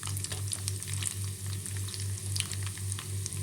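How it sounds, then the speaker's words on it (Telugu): Crushed garlic and dried red chillies frying in hot oil, a steady close sizzle with a rhythmic low hum pulsing beneath it and no talking. "అయితే నూనెలో వేసేసుకుందాము. తెల్లగడ్డ వేసుకుందాము."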